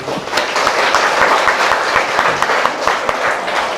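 Congregation applauding during a church sermon, a dense, steady wash of many hands clapping close by for the whole stretch, with no talk over it.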